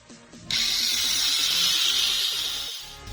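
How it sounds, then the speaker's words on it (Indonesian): Electric motor of an Auldey Kart Rider RC kit spins up after a short quiet start, giving a steady high-pitched whir with a faint mechanical ticking that runs for about two and a half seconds before easing off. "kita akan coba pasangkan baterai dan kita akan coba engine on guys"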